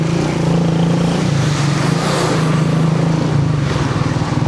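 Motorcycles and cars in dense, jammed street traffic in Iran, with bikes riding against the flow on the wrong side; a steady, close engine drone with a continuous low hum throughout.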